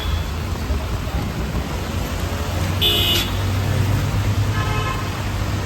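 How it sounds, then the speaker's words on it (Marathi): Steady rain falls on a road in Thane as a constant wash of noise beneath passing car traffic, with a short car horn toot partway through and faint low speech in the background. "पाऊस काही थांबत नाव नाही."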